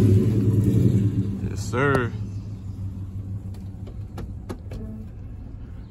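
A box Chevy, an older Chevrolet car parked out in the country, rumbles at a steady low idle close by, with a brief rising rev partway through and someone speaking over it.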